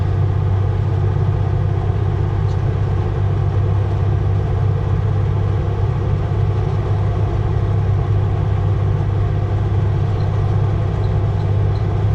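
A heavily loaded vehicle's engine labours up a steep hill, a loud, steady low rumble close by that drones on without letup.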